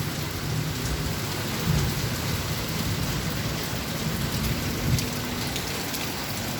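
Heavy rain pours down on a Bangkok street, a dense, constant hiss of downpour with low rumbling underneath, steady and loud throughout, with no talking.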